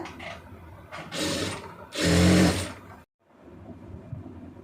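A sewing machine stitching a blouse armhole, two short mechanical whirring runs with a louder burst before stopping, then quiet handling of fabric.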